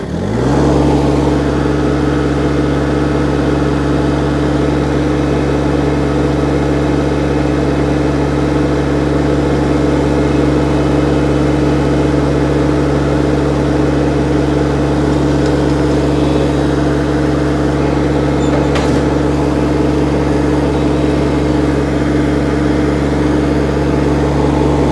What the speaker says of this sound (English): I'm going to have to start the engine here to just show you how this works